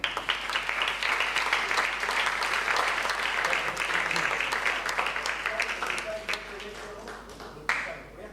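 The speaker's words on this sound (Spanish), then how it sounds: "Un aplauso para Víctor." An audience at a round-table talk on surrealism applauds for Víctor, a dense, sustained burst of clapping that fades out toward the end, with voices faintly underneath.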